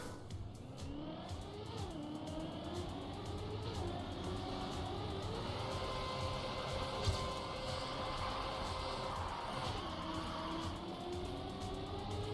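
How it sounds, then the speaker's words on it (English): A race car in Trackmania slides along an extended ice section, its engine droning steadily with pitch sweeps and a continuous tire hiss, no talking. "this is basically just the world's longest ice slide there"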